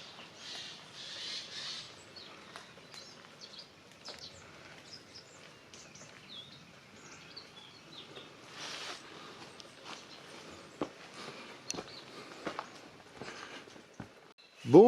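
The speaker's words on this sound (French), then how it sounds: "je ne mettrai pas de musique pendant le déroulement de la vidéo. Je trouve que le chant des oiseaux est beaucoup plus agréable" Birds call faintly outdoors around a ruined château, with scattered chirps and squawks over quiet ambience and occasional soft footsteps.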